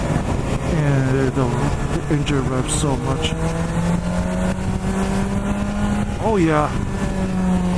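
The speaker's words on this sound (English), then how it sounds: "And the engine revs so much." BMW S1000 XR 2017 motorcycle engine revs and climbs in pitch with rising harmonic sweeps, near and loud, while someone talks over it.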